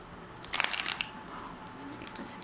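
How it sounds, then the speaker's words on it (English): A deck of tarot cards being shuffled: a short flurry of crisp riffling clicks, fairly close and moderately quiet, followed by faint scattered card rustles over a low room hiss. "I'm just gonna shuffle once more."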